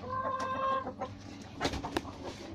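A village rooster gives a few close, brief clucks and short throaty calls, with soft farmyard rustling between them.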